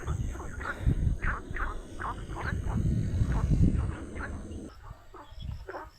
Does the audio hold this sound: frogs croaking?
yes